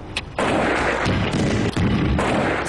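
Explosion during a shock test on a Sentry Safe fireproof hard drive: a loud, sustained roaring blast that keeps rumbling for a few seconds after a brief sharp onset, with one short dip midway.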